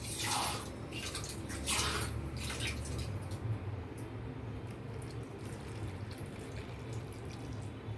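A glass of water poured over raw mango pieces, heard as a close, splashing stream for a few seconds that settles into a quieter trickle and drip.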